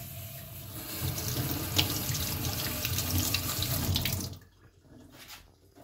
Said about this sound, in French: Cette fois-ci, je viens mouiller mes mains.